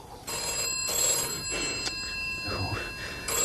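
A telephone bell rings repeatedly in a vintage radio drama, bright metallic trills in short bursts separated by brief pauses, with voices speaking over it.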